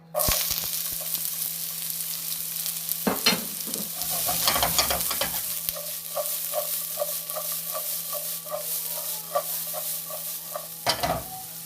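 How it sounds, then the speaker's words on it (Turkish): Onions fry in hot oil in a pan, a steady, close sizzle running throughout, while a utensil stirs and scrapes them in repeated rhythmic strokes. "Tavamıza yağ aldık. İlk önce soğanlarımızı öldüreceğiz."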